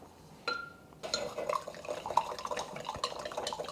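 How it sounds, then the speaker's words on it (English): Cooked sushi rice being stirred and loosened in a bowl, soft scraping and clicking of a utensil with small wet taps, close and quiet, no talking. "Just gonna mix the rice around a little bit just to loosen up the grains."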